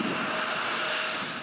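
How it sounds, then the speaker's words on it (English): An AT-5 Brave Eagle, Taiwan's indigenous jet trainer aircraft, gives a steady, loud engine roar that holds unbroken for the whole moment, with no voices. "This is Taiwan's indigenous jet trainer, known as the AT-5 or the Brave Eagle."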